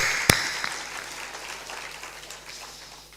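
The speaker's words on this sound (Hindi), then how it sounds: "ताली बजा दो।" An audience at a Hindu religious gathering with a guru claps together after a sharp opening smack, the applause continuing as a soft, fairly distant patter that slowly thins out.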